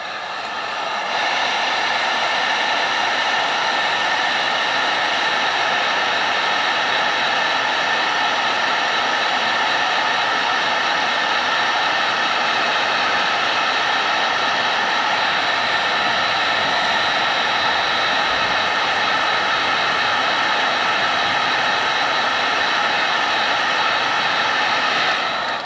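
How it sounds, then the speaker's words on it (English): A heat gun set on high heat blows continuously to shrink tubing during an air horn install on a 2017 Acura NSX, giving a loud, steady, unbroken roaring hiss that starts abruptly and holds for the whole stretch. "All right, so we got our heat gun."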